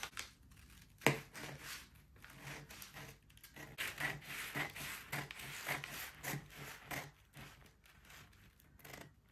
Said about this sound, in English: Yes, it's underbust, so we are going to cut the underbust out.